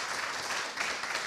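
Brief burst of audience applause at an awards ceremony for an affordable nutrition challenge, a dense, even wash of clapping lasting about a second, moderately loud and without talk.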